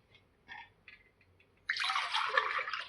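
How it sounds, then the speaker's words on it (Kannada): Water pours steadily into wheat rava in a cooking pot, a sudden close, bright rushing gush that starts partway through after a few faint, soft kitchen sounds. "ನಾನು ಜಾಸ್ತಿ ನೀರು ಹಾಕೋತೀನಿ ರೀ."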